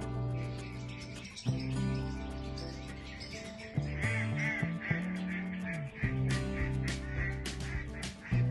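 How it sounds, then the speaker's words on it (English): Ducks quacking outdoors in the morning at a camp retreat, a string of loud, overlapping quacks and honks repeating irregularly near the listener, with some lighter chirps mixed in. "Ducks."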